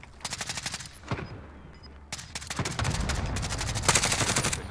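Rapid bursts of automatic gunfire in the battle royale game Warzone, crisp and loud in several volleys with short pauses between, the shooting growing denser toward the end.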